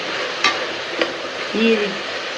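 Mushrooms fry in a pan as chilli powder, coriander powder and turmeric are stirred in, giving a steady close sizzle broken by a few sharp scrapes and clinks of a spoon against the pan.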